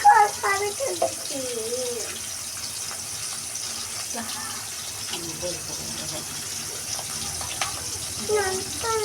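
Fish fries in a pan over turned-up heat, giving a continuous hissing sizzle beneath a person talking throughout.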